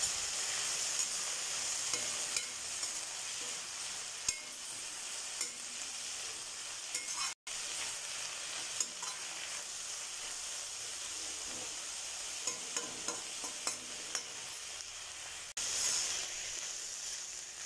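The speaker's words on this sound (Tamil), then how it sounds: "நம்ம சேர்த்திருக்க புதினா வந்து நல்லா சுருண்டு வரணும் அந்த அளவுக்கு நல்லா வதக்கிக்கோங்க" Mint leaves being sautéed in a pan for mint chutney, a steady close sizzle and hiss running throughout, broken by occasional light scrapes and taps of a stirring spoon; no talking.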